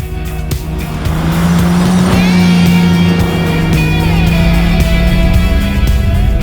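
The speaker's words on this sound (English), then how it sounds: "And of course, we had to get the E30 sideways." A BMW E30 classic car on Vredestein tyres is drifted sideways, its engine revving loudly and its tyres squealing in a long, close, continuous screech.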